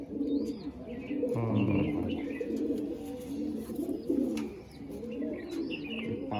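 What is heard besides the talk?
pigeons cooing in a loft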